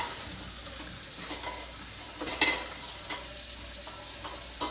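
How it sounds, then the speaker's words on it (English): Boiled eggs and their hot water are drained out of a pot into a sink, giving a close, hissing splash with a few sharp clinks and knocks scattered through it. "I'm going to drain these eggs"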